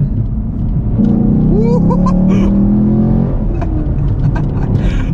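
A Chevrolet Camaro SS 1LE engine revs loudly and steadily, with sharp crackling exhaust pops scattered through it as a voice talks over the top.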